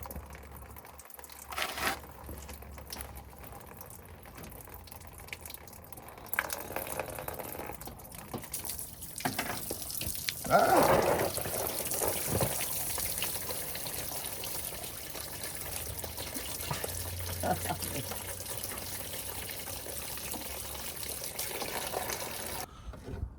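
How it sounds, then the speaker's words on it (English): Coolant drains from a car radiator with its cap open, a steady low trickling and gushing of liquid under faint background noise, swelling slightly partway through and continuing without speech. "you're gonna see how it's gonna drain quicker"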